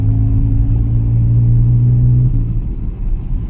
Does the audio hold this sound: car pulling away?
yes